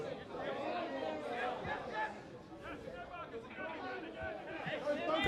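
Crowd at a local football match between Brunswick Juventus FC and Boroondara-Carey Eagles, a steady murmur of many voices chattering in the stands, moderately distant and continuous throughout.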